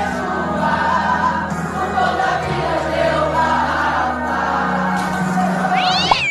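A cat meowing and caterwauling on house rooftops, drawn-out wailing cries over a noisy background, with a sharp rising yowl near the end.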